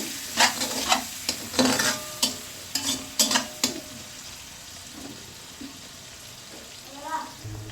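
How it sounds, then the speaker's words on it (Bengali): Bursts of crackling sizzle as rohu fish pieces fry in oil, with intermittent clatters and brief quiet gaps, close by. "এই তো লেজটা বেশি ভাজবো না, হালকা ভাজা হয়েছে।"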